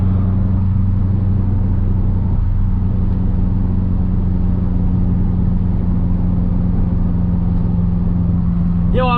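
A BMW E46 running smoothly, a steady low engine drone and rumble inside the car that holds an even, loud tone throughout with no clear revving, no talking.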